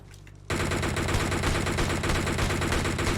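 Continuous rapid automatic gunfire from PUBG Mobile erupts suddenly and stays loud and dense, a steady stream of closely spaced shots with no talking.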